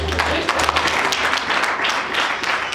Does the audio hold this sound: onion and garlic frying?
no